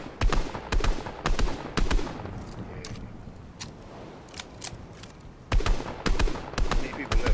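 Fortnite submachine gun bursts crack out in quick clusters of sharp shots, loud and close, with a quieter gap of distant fire in the middle before more rapid bursts resume.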